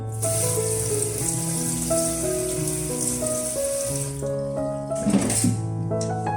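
Running tap water splashes into a sink while cucumbers are rinsed under it, a steady close hiss with shifting tonal gurgles and a brief louder splashing burst near the end, without voices.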